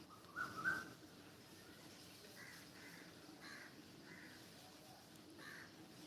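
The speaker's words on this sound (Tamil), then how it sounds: "காக்கா கத்துறது" Crows caw outdoors in a quiet spot, starting with a sharper call and followed by several fainter, spaced caws at a distance over soft background hiss.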